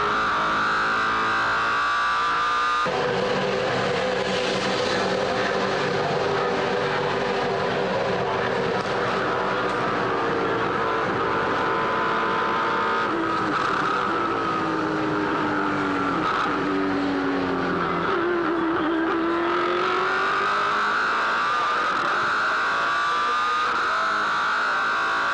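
From onboard a Ford V8 Supercar racing at Pukekohe Park Raceway, the loud, close engine roars and shifts pitch through gear changes, rising and falling continuously, with no talk over it.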